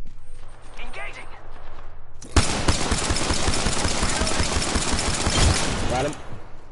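Rapid bursts of gunfire from a PS4 battle royale shooter erupt loud and dense after a quieter stretch, sustained for several seconds with crackling shots layered over one another, then cutting off abruptly.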